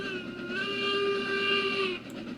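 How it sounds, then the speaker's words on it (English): A steam locomotive whistle in the Railroads Online game sounds one sustained, loud, multi-tone blast for about two seconds before cutting off sharply, with no talk. "I like to blow the whistle when I come across that."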